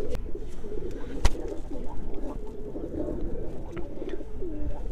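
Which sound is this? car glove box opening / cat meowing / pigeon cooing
pigeon cooing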